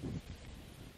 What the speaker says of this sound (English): that's probably all you're going to be able to hear, wind noise